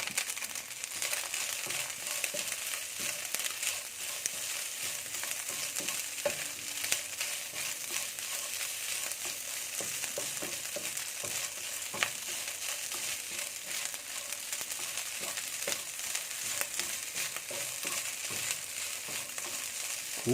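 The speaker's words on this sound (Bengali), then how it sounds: "ব্রেস্টের অংশটা কুচি কুচি করে কেটে এটা আমি খুব ভালো করে ফ্রাই করব" Chopped chicken breast sizzles hard in a pan, a loud steady crackling fry with scattered pops and stirring scrapes throughout and no talking.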